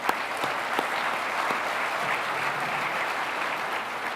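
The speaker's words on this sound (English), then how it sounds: "Let's give him a round of applause." Steady applause from a crowd at the Phoenix mayor's State of the City address, even and sustained throughout without a break, heard from within the room.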